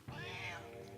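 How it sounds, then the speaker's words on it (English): A cat meows once in the video game Banjo-Tooie, a single clear, drawn-out rising and falling call that is fairly faint and close, heard on its own. "I heard a cat."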